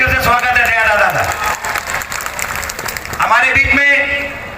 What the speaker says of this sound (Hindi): एक बार दया दादा के लिए भी जोरदार तालियों से स्वागत है दया दादा का